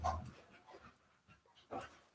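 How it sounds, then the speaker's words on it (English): Indoor dogs excitedly panting and whimpering, with a couple of short loud bursts of breathy panting close to the microphone and quiet gaps between them. "the dogs are going nuts"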